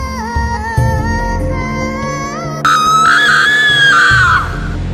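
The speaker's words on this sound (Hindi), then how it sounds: "जोर जोर से किसी के चिल्लाने की आवाज जंगल की ओर से आई" Loud, long screaming cries in a horror story, a voice wailing in sustained rising and falling tones that jump higher and louder midway, set against a jungle at night.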